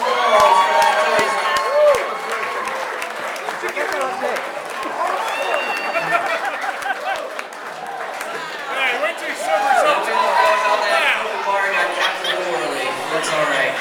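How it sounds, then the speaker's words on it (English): Wedding reception guests on a dance floor cheering, whooping and clapping during a best man speech, a loud lively crowd with overlapping shouts and chatter throughout. "How many round of applause for that choice?"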